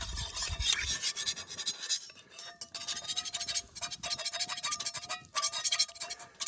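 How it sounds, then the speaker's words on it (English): Metal spatula scraping across a carbon steel pan in quick, rasping strokes with metallic ringing and brief pauses, close and fairly loud. "Metal spatula, metal spatula, metal spatula on carbon steel."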